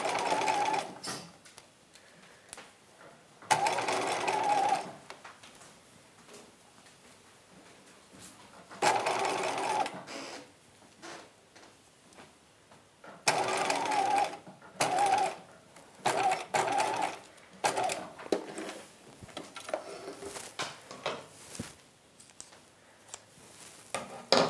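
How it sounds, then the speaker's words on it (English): A sewing machine runs a long basting stitch on a halter tie for a '50s halter dress bodice, working in several close bursts of a few seconds each, separated by quieter pauses with fabric handling. "I'm still on my long stitch on the machine. At half an inch, I'm going to baste here."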